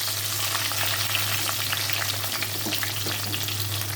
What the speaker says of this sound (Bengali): এখন হচ্ছে বেগুনটা আগে ভেজে নিই, হালকা করে ভাজবো বেগুনটা।